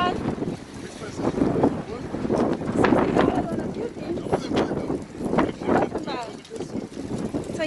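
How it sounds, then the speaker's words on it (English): Strong wind buffets the microphone outdoors in a parking area outside a Home Depot store in loud, gusty roars, with people talking underneath. "it's so fucking windy out here"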